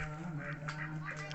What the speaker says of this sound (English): Good looking ducks, though.